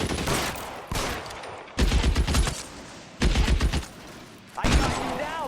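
Gunfire rings out in the video game LA Noire as loud, rapid bursts of repeated shots, separated by brief quieter gaps.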